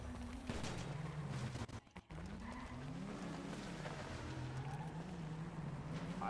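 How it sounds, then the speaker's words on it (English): Revving engine of a motorcycle in the FiveM video game, a loud continuous drone rising and falling in pitch throughout, with a brief dropout near the middle. "I hear a motorcycle, guys."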